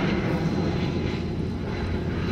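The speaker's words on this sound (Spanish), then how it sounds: "en donde pasan muchos aviones también." Airplanes fly over a park on a spring day, a steady broad engine roar filling the whole stretch at moderate loudness, with no talking.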